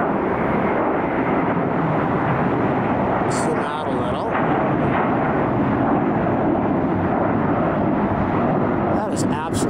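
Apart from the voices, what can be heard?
airplane flying near LAX airport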